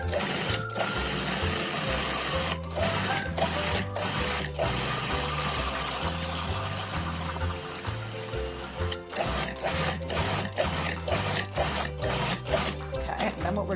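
A Cuisinart 14-cup food processor pulsing a creamy mixture, a steady rumbling motor whir with repeated short grinding pulses, close and fairly loud with no talking.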